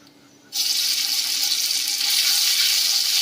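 Ground mustard paste hits hot oil in a pan and bursts into a loud, hissing sizzle that starts suddenly after a quiet moment and holds steady, slightly building, with no voices.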